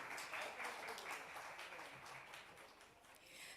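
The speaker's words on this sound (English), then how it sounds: "Might I encourage everyone to offer a loud round of applause to our panelist, Jasrita Dheer." Conference audience at a PR and corporate communications awards event applauding a panelist as she comes on stage, a faint, even wash of many hands clapping throughout.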